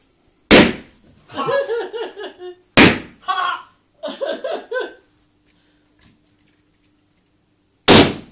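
Firecrackers set off outdoors, three sharp loud bangs spaced seconds apart, each followed by a child's excited laughter and squeals between them.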